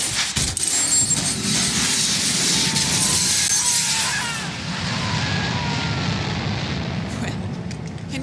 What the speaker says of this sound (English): Step three, pull the ejector seat handle.